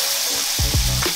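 Potato pierogi dropped into brown butter in a pan over medium-low heat, a loud close sizzle that flares with each dumpling added, several bursts over a steady crackle.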